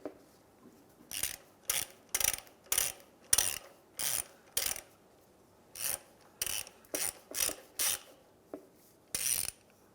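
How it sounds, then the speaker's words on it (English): A ratchet fitted with a 17mm socket loosens the oil drain plug on a 2003-2011 Honda Element oil pan, giving about thirteen short, crisp clicking bursts in an uneven rhythm, close by and alone with no talk. "With a 17mm socket, we are going to take out our drain plug in our oil pan"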